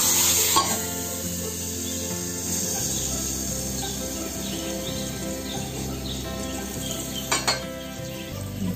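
Hot tempering poured into a mung bean chutney for dosa, the pan off the heat, giving a loud, steady sizzle with clinks of a spoon and pan and short bright crackles near the end.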